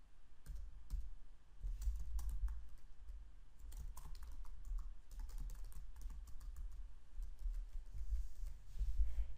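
Computer keyboard typing at close range, a long run of quick irregular clicks and key taps for several seconds, fairly quiet and with no voices.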